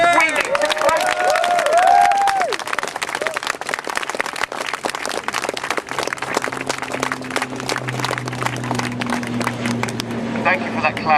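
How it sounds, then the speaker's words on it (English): Audience applause at a London rally during the Alternative G20 Summit, a dense wash of many hands clapping steadily throughout, with crowd noise and some voices mixed in. "Thank you for that clap, that was really well timed."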